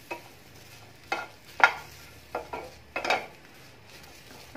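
Green chillies roast in a dry pan, stirred with a utensil: intermittent metallic scrapes and clinks come every second or so over a faint low sizzle, close and fairly quiet, no voices.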